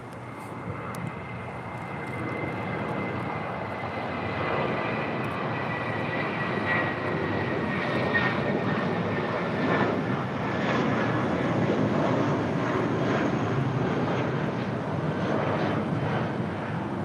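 A Qantas Airbus A330 arriving at LAX from Brisbane gives a steady, broad jet-engine roar that builds slightly and holds at a moderate distance, with some wind rumble.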